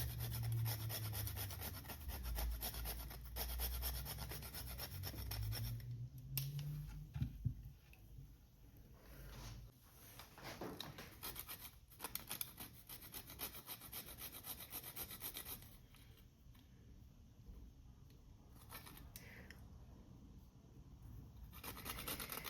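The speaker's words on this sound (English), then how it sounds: "I grate a nutmeg in it." Whole nutmeg grated by hand into Jamaican sweet potato pudding, a close, continuous dry rasping scrape in quick strokes with brief pauses.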